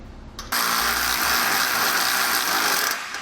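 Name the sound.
ratchet threading nuts onto bolts on a boat trailer coupler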